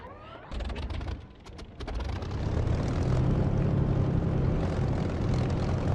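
An aircraft engine starts up in the DCS flight simulator game: a rising whine, then sputtering cranking that catches into a loud, steady propeller-engine drone that builds and holds.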